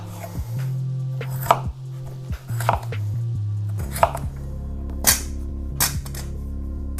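Sharp knife chops land on a cutting board one at a time in an uneven rhythm as potatoes are cut into large chunks, close up, over a low steady hum.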